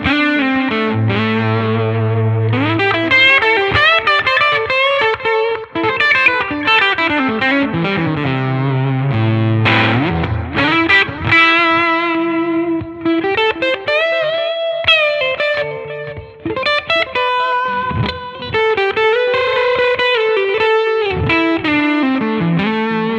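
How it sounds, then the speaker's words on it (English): Distorted electric guitar played through a vintage 1965 Fender Deluxe Reverb amp, notes smeared with echoing repeats from a tape delay, loud and continuous. "Add some tape delay to that."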